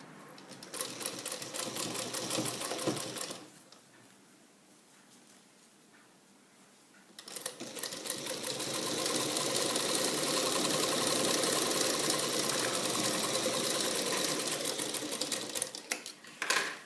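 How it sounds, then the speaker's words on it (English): A sewing machine stitches a kurtha placket with a rapid mechanical rattle, running for a few seconds, pausing quietly, then running continuously again for a long stretch. "now I will stitch with 1/2 inch of seam allowance"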